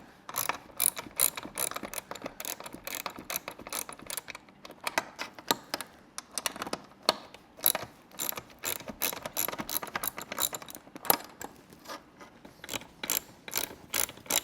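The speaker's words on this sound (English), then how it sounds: "They're holding with 10mm bolts. So we're going to remove those 2 and then take the seat cover out with it." A ratchet wrench removes the 10mm bolts holding a Tesla Model 3/Y seat. Up close, it makes rapid bursts of crisp clicking, stopping and starting again and again, with no talking.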